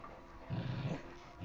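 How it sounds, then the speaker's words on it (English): A small dog growls low and rough while attacking, a short rumbling burst heard close against a steady background hiss. "The little dog is still attacking you."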